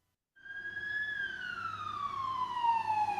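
A fire truck siren wails loud and close, a single long tone rising quickly and then sliding steadily downward in pitch, with faint road rumble beneath.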